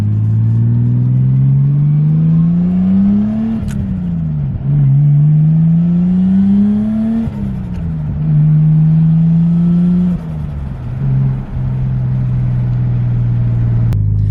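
An LS-swapped Nissan R33 Skyline with its V8 idling and being blipped, a loud close rumble that climbs and falls through several rev rises and drops.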